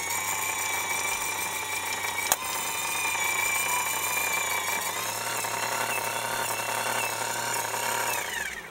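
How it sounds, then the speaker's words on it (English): A new old stock original equipment General Motors power antenna for a 1977-78 Cadillac DeVille retracts, its electric motor whining steadily and loudly for several seconds, pitch shifting slightly near the end before cutting off. "That's the functional validation test for this new old stock original equipment General Motors Cadillac Power Antenna."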